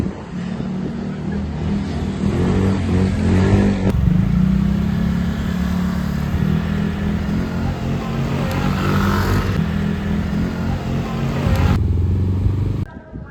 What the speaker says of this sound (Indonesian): suara klakson dan motor terdengar dari kejauhan